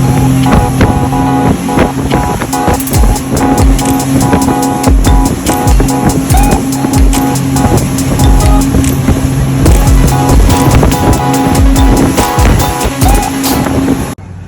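A speedboat heading to Maafushi island in the Maldives roars loudly and continuously, hull slapping and thumping on the waves with spray and wind, close and unbroken throughout.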